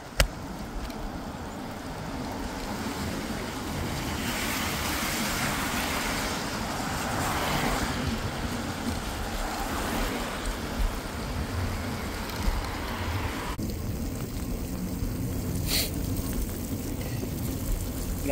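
Heavy, nonstop rain makes a broad, continuous roar near Beaver Lake, mixed with a low rumble like passing road traffic, steady throughout with no talking.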